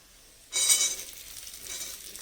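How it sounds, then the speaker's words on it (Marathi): Sliced onion hitting hot oil on a high gas flame, a sudden loud sizzle bursting up that then settles into a steady hiss of frying, alone. "चांगलं तेलात परतून घ्यायचं आहे फास्ट गॅसवर"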